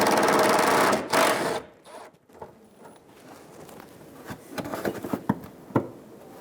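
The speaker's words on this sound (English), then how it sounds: "Using a 10mm socket, remove the bolt out of the corner of the bumper." A ratchet with a 10mm socket works a bolt out of the corner of a 2007-2011 Toyota Camry front bumper, giving rapid clicking bursts followed by scattered close taps and knocks.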